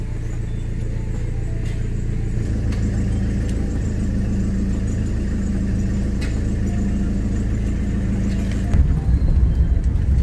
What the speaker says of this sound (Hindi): तो एक सेल्फ में गाड़ी स्टार्ट हुई है